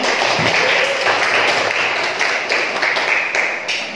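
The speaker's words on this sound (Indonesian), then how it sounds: "Tepuk tangan." Students and teachers clapping for a high school group's entrepreneurship project presentation in a classroom, a brief close burst of applause that tapers off over a few seconds.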